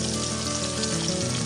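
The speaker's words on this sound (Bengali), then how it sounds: "এখন মাছটা ভেজে নিচ্ছি।" Fish frying in a pan in a home kitchen, a loud, steady, dense sizzle of hot oil throughout with no talk.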